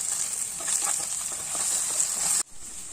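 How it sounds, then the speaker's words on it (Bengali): Small boiled potatoes fry in a pan, giving a steady, close sizzle with faint stirring scrapes, which cuts off abruptly near the end. "এবার এগুলোকে হালকা করে মা ফ্রাই করে নেবেন।"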